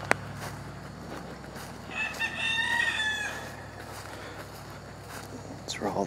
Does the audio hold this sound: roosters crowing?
yes